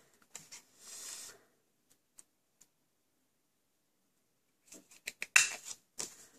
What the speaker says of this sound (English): I'm going to trim it off.